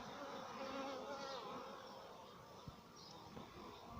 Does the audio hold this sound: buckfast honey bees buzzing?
yes